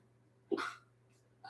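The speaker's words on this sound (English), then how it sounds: "y'all thought I was going to get away with the day without sneezing?" A single short sneeze bursts out close and sharp in a quiet kitchen, followed by a faint breathy sound.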